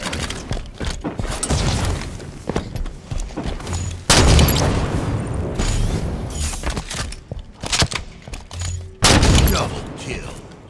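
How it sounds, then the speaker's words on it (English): Rapid bursts of shotgun fire in the video game Halo 5, loud booming blasts in quick clusters amid in-game gunfire and explosions, with brief gaps between volleys. "Shotgun's doing work!"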